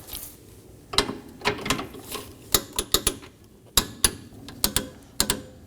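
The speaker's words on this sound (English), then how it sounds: "We're also going to torque these down to 10 foot-pounds." A ratchet wrench torques bolts on the cooling fan assembly of a 2020-or-later Toyota Corolla, giving bursts of close, sharp clicking in an uneven rhythm with brief pauses.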